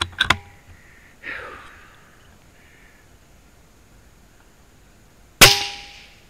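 Air Venturi Avenger .25 air rifle fired outdoors from a prone position in a field test, with sharp single cracks: a close pair at the start, a softer report after a second, and another loud shot near the end, each ringing out briefly.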